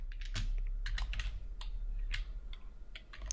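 A git command is typed on a computer keyboard: a quick burst of close, crisp key clicks in an irregular rhythm, fairly quiet, with no talking.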